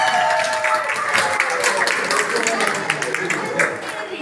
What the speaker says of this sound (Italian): Facciamo anche un applauso a Mamiliano